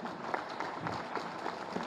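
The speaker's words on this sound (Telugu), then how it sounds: "చేతులు ఉన్న వాళ్ళు అందరూ చప్పట్లు కొట్టాలి" An audience claps hands at a cultural foundation event, a faint, dense patter of many hands from a distance, steady for a couple of seconds.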